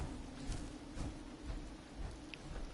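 Steady rain falls at night in Fallout 4, a soft, even hiss with faint pattering, continuous and fairly quiet throughout.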